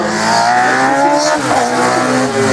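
A race car drives a slalom course at the 12th Slalom du Pays d'Ancenis, its engine loud and close, a steady high drone with rising and falling revs and no voices.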